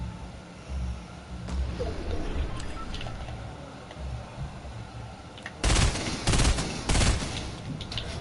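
Gunfire in Fortnite, with a low rumble of action under the first part and then a cluster of three or four sharp, loud shotgun-like blasts in quick succession toward the end.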